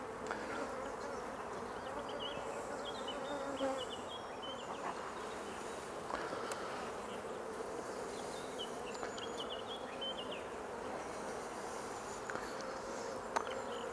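Honeybees at an apiary colony sick with Chronic Bee Paralysis Virus drone in a dense, steady buzz close by, many insects humming at once, with faint outdoor background and no speech.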